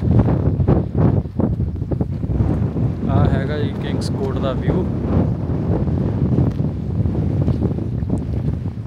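Strong, cold wind on Kangaroo Island near the Kingscote waterfront buffets the microphone as a steady, loud rumble, with people talking over it throughout.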